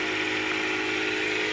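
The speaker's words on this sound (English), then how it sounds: "you may hear the air compressor in the background airing up one of my tires" Air compressor running steadily in the background while inflating a tire on a 2015 Dodge Charger 5.7 Hemi R/T, a faint, even mechanical hum and hiss with no talk.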